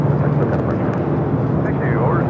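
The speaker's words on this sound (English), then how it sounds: "That was an A321 Neo that just took off" An Airbus A321neo jet roars steadily during takeoff at LAX, a broad continuous rumble heard from a distance, with a voice talking over it.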